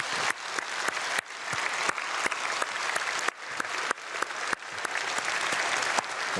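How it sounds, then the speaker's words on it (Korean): A church congregation applauds middle school students at an early-morning prayer service. The clapping is steady and moderately close, with a few sharp louder claps standing out from the dense crowd. "우리 박수로 한번 축복하겠습니다."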